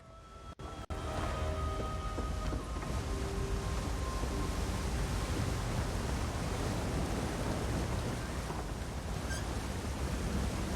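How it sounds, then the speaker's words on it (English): Video game waterfall rushing as a continuous broadband wash of falling water, steady and moderately loud after a couple of brief clicks at the start. "It's like I can hear the waterfall"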